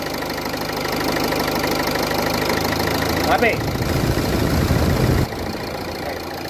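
A car engine idles steadily with the AC compressor running, a continuous close mechanical hum with slight knocking, while a person speaks briefly over it.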